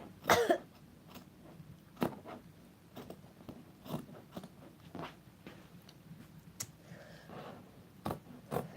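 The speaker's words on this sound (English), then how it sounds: "I have a little bit of a cough." Several sharp coughs scattered across a quiet indoor background, each a brief broadband burst, with an especially strong one at the start and a few later.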